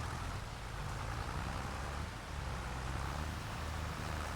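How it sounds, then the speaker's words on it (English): Steady rain falls in the Farming Simulator 25 game on a field around a tractor with wet tyres, a soft, even hiss with a low rumble beneath it, quiet and continuous throughout. "And is this rain actually washing my tractor?"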